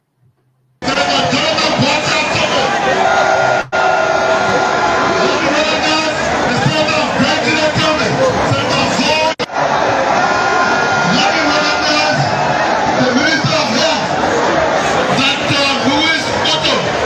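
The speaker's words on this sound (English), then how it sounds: "Crowd view of the UP homecoming." Crowd noise from the UP homecoming plays back as a loud, continuous wash of voices and cheering, broken by two brief dropouts.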